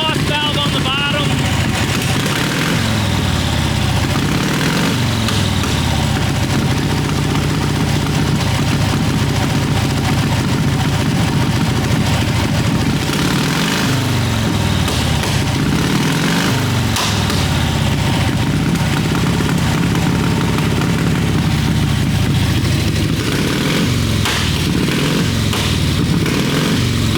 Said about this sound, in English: There's no better sound than hearing one of these 100-year-old racing